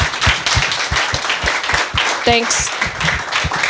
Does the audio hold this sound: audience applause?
yes